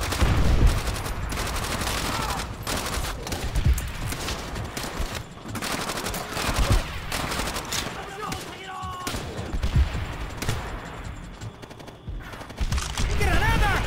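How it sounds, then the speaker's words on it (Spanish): In Call of Duty: World at War, rapid bursts of gunfire crackle almost continuously, with heavy automatic fire and explosions layered over shouted Spanish voices throughout. "¡Líbrenme de esos disparos japoneses!"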